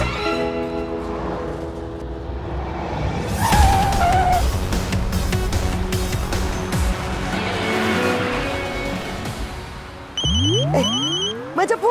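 Car engine noise and squealing tires fill the scene, then a phone's electronic ringtone chirps in quick repeated tones near the end.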